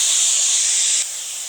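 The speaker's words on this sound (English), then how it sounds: "Vinegar is going to steam up." Vinegar hisses and steams in a hot pan with garlic and cherry peppers, a steady broad loud sizzle that drops slightly in level partway through, with no voices.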